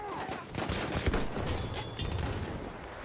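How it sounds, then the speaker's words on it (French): Enemy machine gun fire in the Battlefield 1 video game, a dense, continuous burst of rapid gunshots mixed with other battlefield noise throughout. "C'est une mitrailleuse ennemie."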